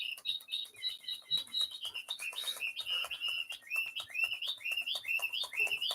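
A pet bird chirps and tweets in quick repeated bursts throughout, fairly close and clear, with a steady rhythm of bright calls over faint background noise.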